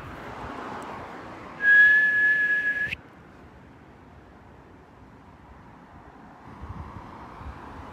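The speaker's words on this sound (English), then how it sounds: "I am going to whistle." A person whistles outdoors during a hide-and-seek game, giving a single sustained, fairly loud whistle of about a second over steady wind and distant traffic noise.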